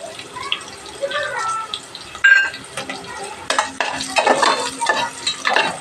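Ginger pieces frying and being stirred in a pan, with soft sizzling and scraping that builds in the second half, some clinking of utensils, under speech.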